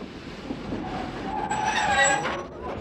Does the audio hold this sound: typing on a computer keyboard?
no